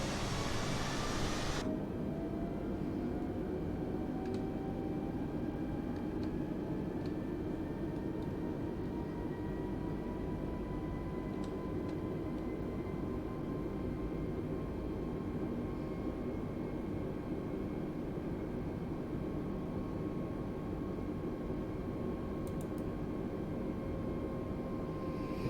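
An Airbus A320neo on approach in Microsoft Flight Simulator 2020 gives a steady, loud engine and cabin drone with faint whining tones. It holds unbroken throughout, with no talk.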